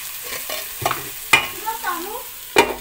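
Potatoes stirred with masala in a hot pan, with several sharp spoon scrapes and knocks against the metal over a steady frying sizzle, close and alone.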